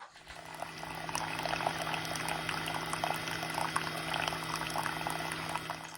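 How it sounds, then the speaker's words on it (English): Hot coffee brewing in a kitchen during Oreo cake baking, with a steady bubbling, gurgling hiss of water and liquid streaming, continuous and moderately loud throughout with no talking. "Now we're going to brew our coffee."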